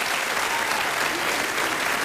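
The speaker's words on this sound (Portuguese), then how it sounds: "palmas a uma grande atriz." An audience applauds an actress after her impersonation performance on a Portuguese TV impersonation show, steady dense clapping filling the whole moment at an even loudness.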